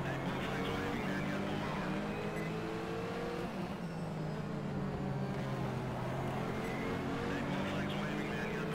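Race car engines in the GTR 2 racing game at Laguna Seca, in a 2001 ALMS event, drone on continuously at a loud, steady pitch, with tonal engine harmonics shifting slightly as cars run in traffic.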